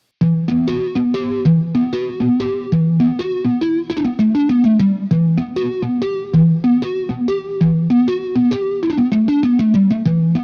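A distorted, high-gain electric guitar plays a choppy riff of rapid picked notes and chords, loud and continuous with no talking.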